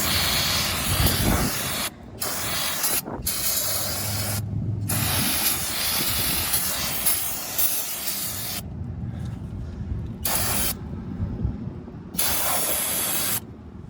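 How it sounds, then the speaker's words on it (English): Loud hissing bursts of brake cleaner sprayed on Ford F-150 brake parts, several long blasts separated by brief pauses, close up. "I'm going to spray these off."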